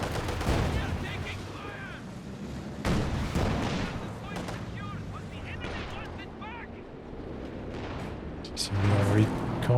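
Artillery barrage in the video game Company of Heroes 2 as repeated booming impacts and gunfire bursts, loud and dense throughout, heard under ongoing commentary from a voice.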